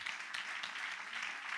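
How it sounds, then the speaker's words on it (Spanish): A church congregation applauds steadily, a dense wash of many hands clapping at an even level throughout, with no voices standing out. "Dáselo fuerte el aplauso al Señor."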